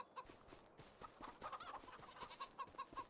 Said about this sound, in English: Chickens are hiding among everything.